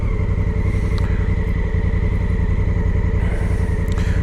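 A Honda Africa Twin Adventure Sports motorcycle on the move, its engine giving a loud, steady drone and road rumble up close from the rider's position, with faint clatter and no talking.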